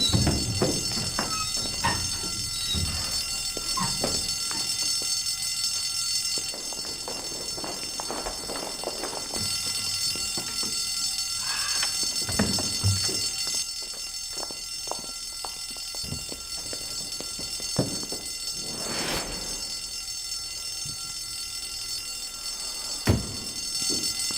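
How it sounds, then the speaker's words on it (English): A fire alarm rings steadily throughout inside a building during an evacuation. The tone is continuous and fairly loud, with scattered thumps and movement noises over it. "and I think that's the fire alarm"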